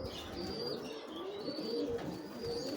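Domestic pigeons kept by a fancier coo softly and steadily in a loft, with faint chirps and a continuous rustling murmur of the flock close by.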